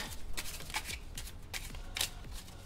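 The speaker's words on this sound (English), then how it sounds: "We're going to shuffle this deck all haphazardly." A deck of cards is shuffled by hand, a quick series of soft flicks and slaps up close.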